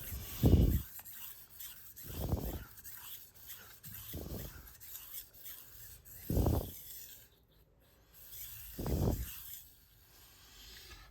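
A knife blade scrapes across a Shapton Kuromaku 1500 grit whetstone in slow, regular strokes, about five distinct rasping passes separated by short pauses.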